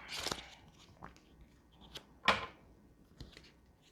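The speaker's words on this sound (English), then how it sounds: "these are a little bit tough to shuffle. They're great cards, but they're very bendy." A deck of bendy tarot cards is shuffled by hand, giving a few sharp riffling snaps and soft flutters spaced irregularly against a quiet background.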